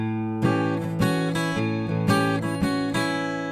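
Acoustic blues guitar picking a melody over a sustained chord, a challenging voicing with the fourth finger on G; close, clear plucked notes ring out in an unhurried phrase, played alone.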